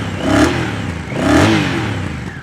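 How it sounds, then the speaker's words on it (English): Honda CMX1100 Rebel motorcycle on its stock blacked-out exhaust, revved twice in quick succession, each blip swelling and falling back to a rumbling idle, close by with no talking. "the blacked out exhaust is a little on the large size, but it does sound pretty good for a stock pipe"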